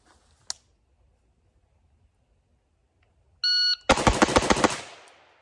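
Outdoors in the cold, a shooter fires a rifle topped with an HWU Saturn 4x32 scope: after a long quiet stretch a shot timer beeps, then six sharp shots ring out in rapid succession, loud and close, with a short echoing tail.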